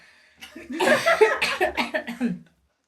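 A loud fit of coughing close by, a rapid series of harsh coughs and hacking bursts trailing off at the end.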